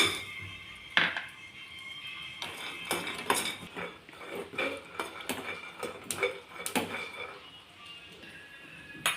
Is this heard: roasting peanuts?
yes